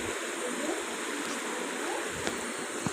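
Water flowing in a stream swollen with rain, a continuous, even rush heard from fairly close with no voices over it.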